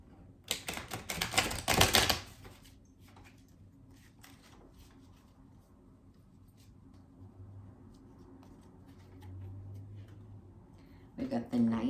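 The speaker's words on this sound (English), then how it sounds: "let's pull some cards for what you should work on during this retrograde" Tarot cards shuffled in a quick close flurry at the start, followed by quieter handling and a faint low hum, with another brief burst of card noise at the end.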